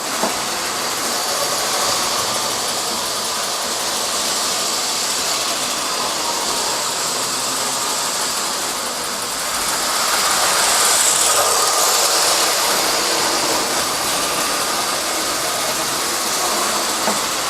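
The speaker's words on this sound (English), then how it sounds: "He's chugging, look at him chugging up the hill there." A smoking model steam locomotive climbing a hill on a model railway layout gives a steady, loud hissing whir with a slight swell partway through, and no voices over it.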